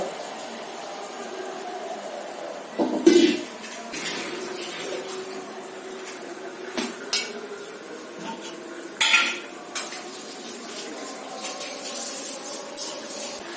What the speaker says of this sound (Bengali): মাংসটা দিয়ে এবার কষানো মশলাটার মধ্যে দিয়ে নাড়িয়ে দিচ্ছি